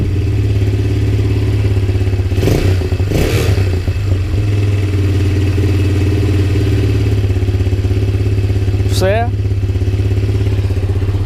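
A Lifan CitiR 200 motorcycle engine, hot after an oil change, runs at a steady loud idle throughout, with a couple of brief clattering bursts early on and a short rising whine near the end.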